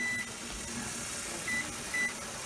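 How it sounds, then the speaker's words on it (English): A timer beeps during pressure canning of raw-pack chicken: three short, faint electronic beeps spread over a couple of seconds above a steady hiss. "Okay, there goes the timer."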